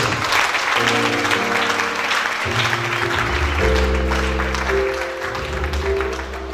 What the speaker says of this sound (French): Est-ce qu'on peut acclamer très fort aussi?